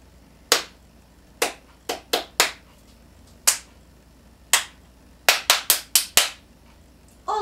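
A teacher claps a rhythm for a new student to copy during a first music lesson: eleven crisp, close hand claps in an uneven pattern of singles and quick clusters, each sharp and dry, with quiet between them.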